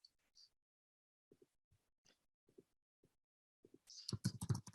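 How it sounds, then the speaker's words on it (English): Typing on a computer keyboard in a quiet room: sparse, soft key taps in small clusters, then a faster, louder burst of clicks near the end. "I'm just typing my email ID."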